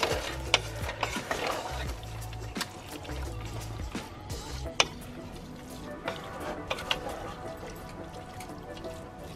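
Spaghetti squash being stirred into warm, bubbling sauce in a pan, soft scraping and wet squelching with occasional clicks, close and quiet beneath a low hum.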